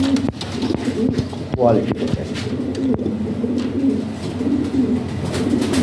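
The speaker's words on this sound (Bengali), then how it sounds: "দেখার মতো সুন্দর কবুতর।" Fancy pigeons, including Lahori birds, coo in a repeated low rhythmic burble close by, while someone talks over them throughout.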